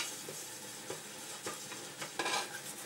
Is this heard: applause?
no